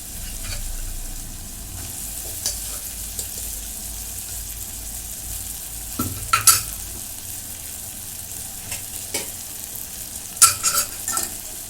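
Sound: mashing cooked cowpeas with a spoon

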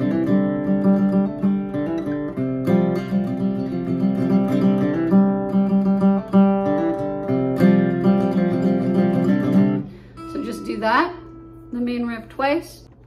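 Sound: electric guitar playing the song's main riff

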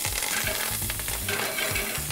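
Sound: herbs sizzling in hot oil

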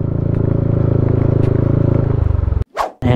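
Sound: motorcycle riding over slippery muddy ground

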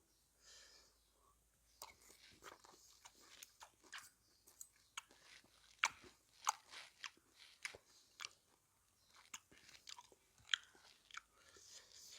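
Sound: chewing crispy fried shallots

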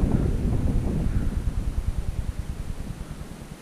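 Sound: wind blowing outdoors

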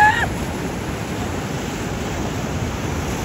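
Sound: sea waves with risen water

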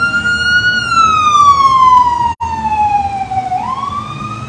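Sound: emergency vehicle siren passing a parade

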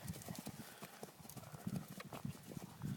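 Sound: horse hooves while horse riding

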